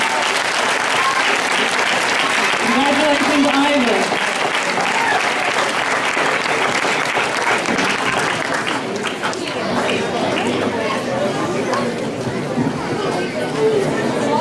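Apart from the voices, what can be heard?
audience applause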